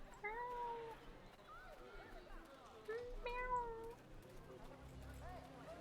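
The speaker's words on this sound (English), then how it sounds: "I hear a kitty cat." A cat meows repeatedly in the video game Neverwinter Nights, several short rising and falling calls spread across the stretch, moderately close, over a steady ambient game background.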